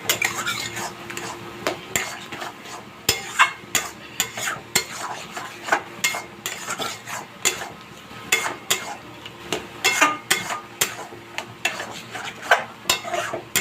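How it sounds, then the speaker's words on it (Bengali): Taro leaf greens being stirred and sautéed in a pan, with sharp metal spatula clicks and scrapes against the pan in an irregular rhythm over a light sizzle. The sound is close and there is no talking. "আরো আরও দু মিনিট কষাবো"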